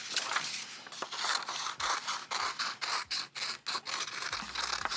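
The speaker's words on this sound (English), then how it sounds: "You cut out your circle." Scissors snip around a paper circle for a cut-paper snowflake, a close run of crisp, uneven cutting crunches and scrapes with short pauses as the paper turns.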